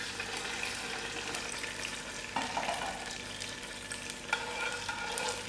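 A cooked fig mixture being stirred into syrup, giving a steady wet hiss with soft scraping of the spoon and a couple of slightly louder sloshes, no talking.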